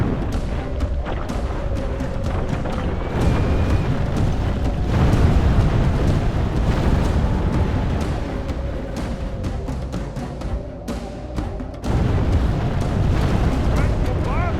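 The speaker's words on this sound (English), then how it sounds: "Grand bombard! Grand bombard! Smash a hole through the enemy wall." Grand bombard cannons in a Total War Medieval II siege boom against city walls amid a continuous rumble of battle, heavy low blasts recurring under a shouting commander's voice.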